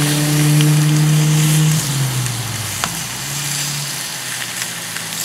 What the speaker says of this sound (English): I want to give these a hot sear